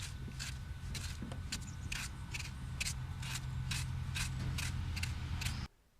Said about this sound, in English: Moving the rasp sideways or diagonally as you sweep it across the sole covers a wider area and can increase horn removal.